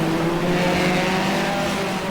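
Classic Hot Rod race cars race at Northampton, a steady loud engine drone of several cars at speed with no voices heard.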